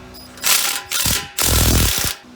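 A ratchet with a 15 mm socket tightens Borla exhaust clamp bolts on a Ram 1500 with a 5.7 Hemi, giving three short bursts of rapid clicking close up, with no talk.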